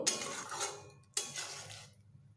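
Pumpkin curry with salt stirred in a pan, giving two bursts of scraping, clinking utensil-on-metal sound, close and fairly quiet, separated by a brief pause, with no talking.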